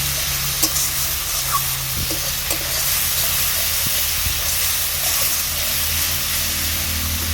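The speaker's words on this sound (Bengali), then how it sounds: "এবার মশলাটাকে আমি ভালো করে কষে নেব" Ground spice masala of cumin, coriander and dried chilli powder with a splash of water cooks in a pan for a boah fish curry, giving a steady close hiss and sizzle with a few faint scrapes of stirring.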